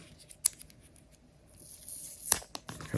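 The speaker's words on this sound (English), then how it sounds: "peel it from the edge" Protective film peeled from the edge of an AirPods clone earbud case, a TWS replica: quiet crackling strips with a sharp snap near the start and a louder tearing burst later, close and alone.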